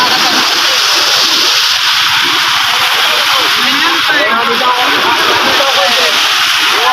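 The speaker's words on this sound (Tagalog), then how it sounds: "ang laki po rin ng alon sa tabi" Large waves surge and splash beside a holed fishing boat at sea, a continuous loud wash and slosh filling the whole stretch, with people talking over it.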